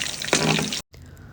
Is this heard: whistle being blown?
no